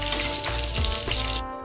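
Black mustard seeds dropped into hot oil, crackling and sizzling in a loud dense spatter that runs steadily before cutting off near the end.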